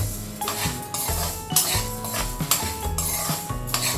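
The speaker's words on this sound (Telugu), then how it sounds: "ఇలా కలుపుకుంటూ మధ్య మధ్యలో అడుగును మాడకుండా వేయించుకోవాలండి" A pan of toor dal powder being stirred and roasted in oil, a spoon scraping and clinking against the metal pan in steady repeated strokes, close and fairly loud with no talking.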